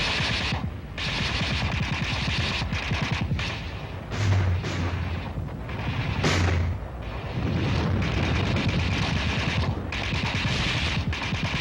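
Battlefield artillery guns firing along a front in concentrated fire, heard as loud, rapid overlapping booms and bursts with a few heavier blasts, continuous for about eleven seconds.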